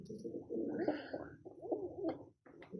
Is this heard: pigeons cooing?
yes